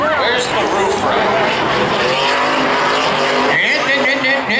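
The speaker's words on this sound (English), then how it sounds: "Drift her right out through there, Jeff, sideways." Trucks drag racing at Beech Ridge in 2016, one drifting sideways, with loud continuous engine roar and tire squeal throughout, an announcer talking excitedly over the noise.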